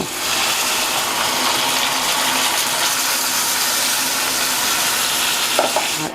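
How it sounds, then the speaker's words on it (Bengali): Water splashes into hot oil holding fried onions and bay leaves, raising a loud, sustained sizzle and bubbling hiss that holds steady close by. "তেলটা তো অনেক ছিটবে তাই একটু পানি দিয়ে দিব"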